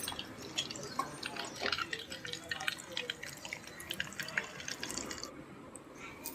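Homemade ghee pours out of a pan in a soft, continuous liquid trickle with light dripping and splashing. The sound is close and steady, with no talking.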